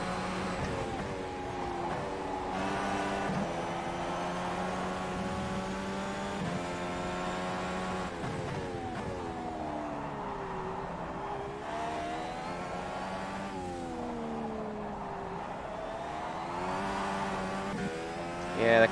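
An Indy car engine lapping Sebring in the racing game rFactor 2, a continuous loud high-pitched roar rising and falling through gear changes and revs, with occasional downshifts, no talk over it.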